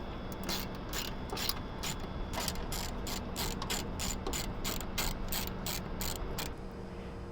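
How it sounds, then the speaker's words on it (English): Ratchet wrench removing a bolt from the intake crossbar of a 2011-2016 Chevy/GMC Duramax LML 6.6L truck, a steady run of rapid close clicks for several seconds with no talking. "Now you can remove this bolt and then remove the crossbar from the vehicle."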